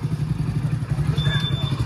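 A motorcycle engine runs steadily close by with a low, throbbing drone throughout, as bikes and a tractor are readied for a Holi outing; a faint whine rises briefly near the end.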